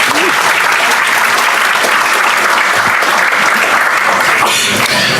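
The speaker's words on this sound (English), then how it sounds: "round of applause for Matt" A conference audience applauds a speaker introduced for a technical talk: loud, steady clapping from a large crowd that lasts the whole stretch without a break.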